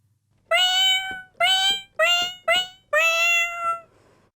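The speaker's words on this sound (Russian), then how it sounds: "Есть тембр мяуканья котов." Five synthesized cat meows from a Medeli MK1 keyboard in a row, bright and tonal with a slightly electronic timbre, the last one longer and trailing off, no talking.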